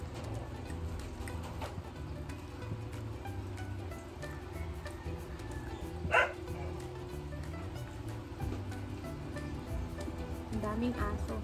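Dogs bark intermittently in the background under steady nearby talk, with one sharper yelp standing out midway.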